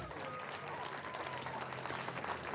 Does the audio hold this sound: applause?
yes